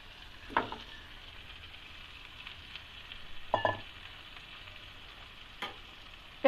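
Chicken frying in a pan with curry leaves, a soft, continuous low sizzle with a few louder bursts of stirring and scraping spaced a few seconds apart, close and fairly quiet.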